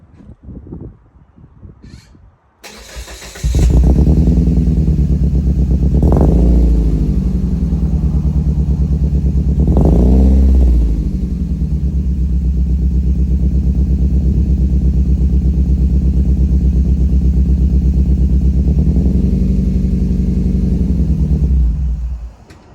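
A Toyota Echo with a 1.5 engine and a misfire fault cranks briefly, then starts and settles into a loud, close steady idle. The engine revs up in several rising surges during the drive.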